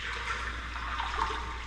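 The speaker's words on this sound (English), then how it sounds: "Ooh, got water coming in." Water pours and gushes steadily into a raft inside an old collapsed railway tunnel, a continuous rushing wash heard nearby with no talking.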